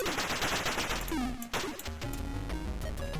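Rapid, continuous gunfire from the Atari ST game Resolution 101, loud and dense across the whole clip, with synthetic bleeps and tones mixed into the barrage and a brief dip near the middle.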